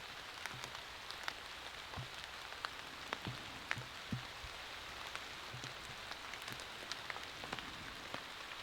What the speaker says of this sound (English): It is still raining outside.